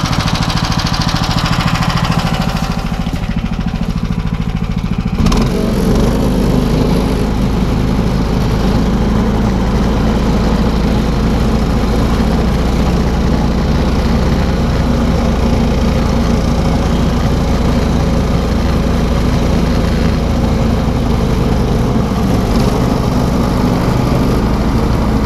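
Engine of a Lider 3 motorized towing sled running steadily and loudly up close while driving through a forest, a continuous droning, buzzing motor sound that changes pitch slightly around five seconds in, with no talking.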